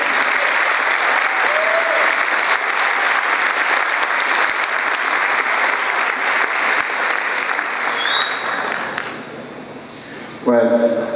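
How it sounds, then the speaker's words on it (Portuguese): Loud sustained applause fills a congress hall at an opening session, a thick wash of clapping from a large crowd lasting nearly the whole stretch before thinning out, with a voice speaking at the end. "Uma grande salva de palmas, né?"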